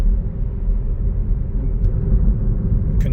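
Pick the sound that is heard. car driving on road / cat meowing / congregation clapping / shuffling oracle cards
car driving on road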